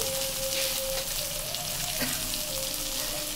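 Spices fry in a pan for a hilsa fish curry with lotki, giving a dense, even sizzle that holds steady throughout, close and without talking.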